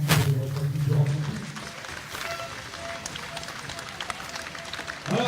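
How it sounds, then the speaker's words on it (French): Audience applause at a European League roller hockey final prize ceremony in Rethel, 2016, a steady wash of clapping filling the hall, with a voice speaking over it at the start and again at the end. "je vous demande d'applaudir"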